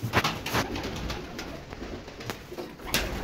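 Pigeons in a coop coo softly in low, throaty bursts, repeated a few times against a faint background hiss, with no voices.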